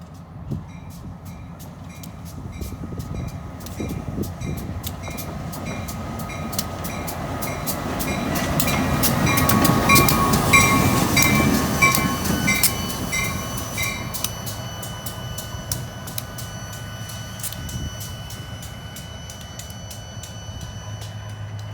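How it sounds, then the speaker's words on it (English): A short line railroad train with mismatched special locomotives, long hood forward, rumbles past steadily, growing louder toward the middle as the cars roll by with rhythmic clicking wheels and a faint metallic squeal. "Here comes the train"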